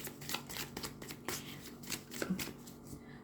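A deck of tarot cards being shuffled by hand close up, a steady run of crisp riffling and flicking card sounds with soft slaps, no one talking.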